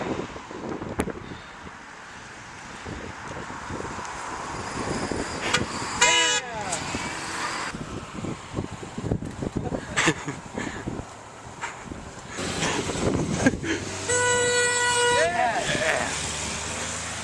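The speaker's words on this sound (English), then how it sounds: "Honk for Japan." Jeep horns give several short honks and beeps amid wind noise and passing traffic outdoors, with people talking in between.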